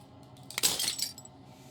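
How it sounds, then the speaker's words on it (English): Glass shattering in the video game Slay the Princess: a brief, bright burst of tinkling, breaking fragments over a low ambient drone, fading with a few scattered chimes. "As the final fragment of glass shatters"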